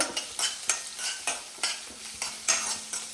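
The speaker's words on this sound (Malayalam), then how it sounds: "കറിവേപ്പിലിട്ടു" Curry leaves sputter in a hot pan, with a steady bright sizzle broken by regular stirring scrapes about every third of a second, close and moderately loud, no voices.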